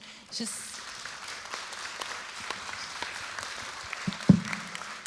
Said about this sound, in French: Merci beaucoup, messieurs. On vous applaudit.